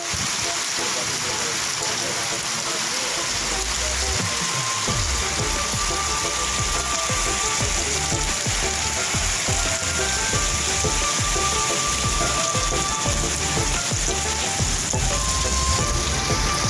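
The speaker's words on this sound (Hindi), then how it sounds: "दोस्तों बारिश हो रही है मेरे गांव में, काफ़ी अर्से के बाद हो रही है।" Steady rain falls in a village after a month of dry weather, a dense continuous hiss of drops on surfaces, with a low rumble early on and faint tonal hums mixed in.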